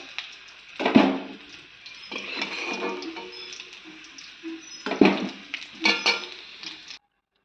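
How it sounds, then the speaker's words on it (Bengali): Fried potatoes, browned a deep red, are lifted one at a time from a cooking pan with a metal utensil. Sharp clinks and scrapes come near 1, 5 and 6 seconds over a soft, steady kitchen background with no talk. "এখন আমি আলুগুলো নামিয়ে নেবো একটা একটা করে"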